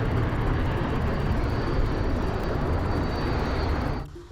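A large military aircraft in flight, a steady, loud broadband jet roar that holds throughout and drops off sharply at the very end.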